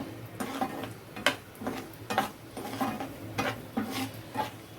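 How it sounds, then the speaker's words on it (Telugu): Cashews frying in hot ghee in a pan, with soft sizzling under a series of distinct clinks and scrapes of a spoon stirring at an irregular rhythm, close and fairly quiet. "నెయ్యి అయితే బాగా వేగిపోయింది ఇప్పుడు కొంచెం జీడిపప్పు వేయించుకోవాలి"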